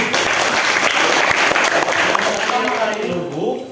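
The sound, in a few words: applause, class clapping hands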